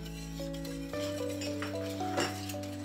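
Sugar is stirred into a simmering pot for cathedral window dessert, a spoon scraping and clinking against the pot over a low steady hum and faint bubbling.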